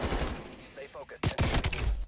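Gunfire in a tactical shooter video game sounds as faint, muffled cracks, with a quick cluster of sharper shots in the second half, low in level overall.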